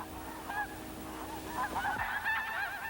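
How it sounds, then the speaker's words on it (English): A small flock of snow geese in the Soviet Arctic honks repeatedly in overlapping, nasal calls, moderately near, against a steady outdoor background. "But it will soon be time for the snow geese to start their long sweep south ahead of the Arctic winter."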